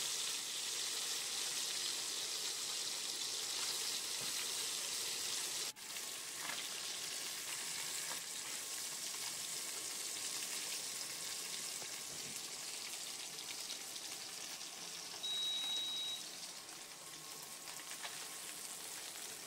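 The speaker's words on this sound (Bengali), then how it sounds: "আর মাছগুলো উল্টে পাল্টে ভেজে নিচ্ছি আমি" Small tengra fish fry in a pan for a village-style fish curry, giving a loud, steady hissing sizzle that runs unbroken, with one sharp click partway through.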